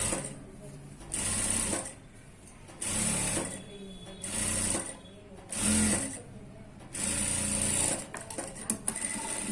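A sewing machine running a straight stitch to join the shoulder of a one-piece dress, with about six steady whirring runs of a second or so, alternating with short pauses, loud and close with little else around it.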